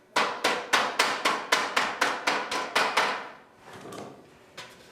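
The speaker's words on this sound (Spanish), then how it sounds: "hay que dar forma a los extremos golpeando con el mazo de madera y el martillo" Wooden mallet and hammer strike a copper sheet being shaped into a cauldron in a coppersmith's workshop, about a dozen sharp, evenly paced blows close up, then a pause and a few softer knocks.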